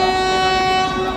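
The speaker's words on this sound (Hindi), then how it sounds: "तो दोस्तों यही हमारी ट्रेन है" Train horn sounding at a railway station, a steady sustained tone with stacked harmonics, loud and close, with the low rumble of the train beneath and no talking.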